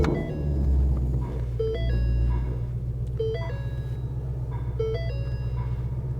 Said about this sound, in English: And of course, push button start.